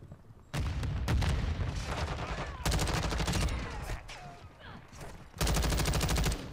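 Call of Duty: Modern Warfare II gunfire: loud, sustained bursts of rapid automatic shots in three long volleys, separated by short lulls filled with quieter distant battle noise.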